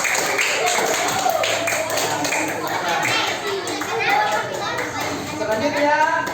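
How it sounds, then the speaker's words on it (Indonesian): Schoolchildren in a classroom clapping for a group after its presentation, a dense continuous patter of many small hands close by, mixed with children's chatter and a voice speaking over it. "Oke, tepuk tangan untuk kelompok 1."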